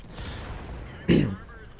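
An artillery shot from a tier 10 self-propelled gun striking a T110E5 tank in World of Tanks, a single short, heavy impact boom over low background rumble.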